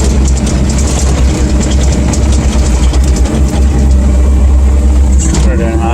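A CAT 305.5 mini excavator pulls away with a steady, loud diesel engine drone and a low rumble throughout, with a voice talking over the machine noise.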